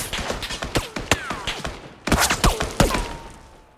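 Gunfire in a battle royale video game: a rapid string of sharp, close shots in two bursts, with a louder cluster near the middle, and faint talk in the background.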